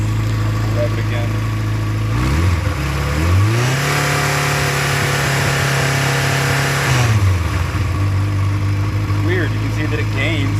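1992 Yamaha XJ600 Seca II motorcycle with a charging system fault, idling close by then revved up to a sustained higher note for a few seconds before dropping back to idle.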